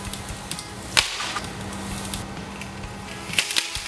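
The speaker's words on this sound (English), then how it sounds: "When the fiberglass pole breaks, it really shatters." Fiberglass safety pole snapping under a strength test, sharp cracking and splintering bursts over a steady background hum, with a second crack near the end.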